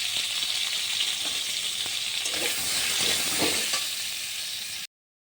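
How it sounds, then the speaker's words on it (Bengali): Potatoes tossed with salt and turmeric fry in hot oil, giving a dense, continuous close sizzle with occasional stirring scrapes, no talking, before cutting off abruptly near the end. "আলুটা ভেজে নিতে হবে"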